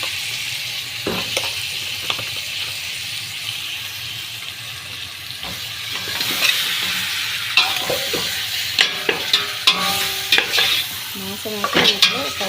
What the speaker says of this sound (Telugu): కొంతసేపు అయితే మసాలా అలా తిప్పాలండి చూడండి